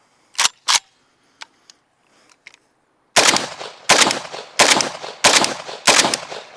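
A tuned AK-47 rifle fires a series of sharp, loud gunshots outdoors, five evenly spaced reports in quick succession after a few faint clicks and handling sounds.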